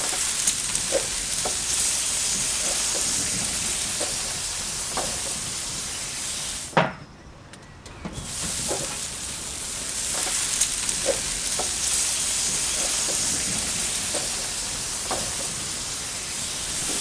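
British pork sausages from a butcher sizzle on a grill with a loud, continuous hiss and frequent pops, and a short pause when the lid or grate moves before the sizzling resumes.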